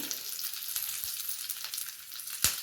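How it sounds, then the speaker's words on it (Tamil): Steady crackling sizzle of spices and dried chillies tempering in hot oil, with a few sharper pops and spits rising over the constant hiss. "அந்த வடவம் போட்டு தாளிக்கிறேன்."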